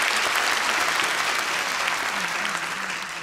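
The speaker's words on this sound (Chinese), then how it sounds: "再给我们的彭蒂尔一个热烈掌声。" A large crowd at a business testimonial convention in the Taipei TICC hall gives steady, warm applause that fills the room and tapers off slightly toward the end.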